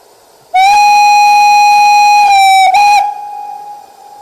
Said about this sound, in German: Da pfeift es auch wieder aus der Pfeife.